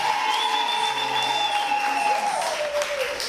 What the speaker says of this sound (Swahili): Unaweza kumpigia Bwana Yesu makofi na vigelegele.